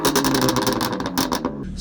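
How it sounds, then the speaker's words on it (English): A BMW F80 M3 Competition with a Stage 1 tune revs hard through its sports exhaust, a loud, dense, raspy roar that rises and falls in quick bursts before cutting off abruptly near the end. "Let's get some revs up in here."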